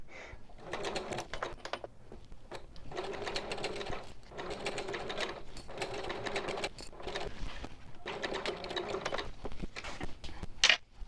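A sewing machine stitches a seam across a small fabric bag in close, loud bursts of rapid whirring, separated by short pauses.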